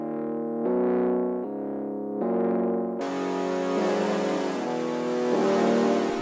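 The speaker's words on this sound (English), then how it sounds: "The first thing I added for the hook was this Rhodes. It's playing these chords. Then I went and soaked it in distortion and layered it with this saw wave sound" Distorted Rhodes electric piano chords play slowly in sustained changes. Partway through, a bright saw-wave synth layer joins them and fills out the hook.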